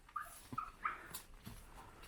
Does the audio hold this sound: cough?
no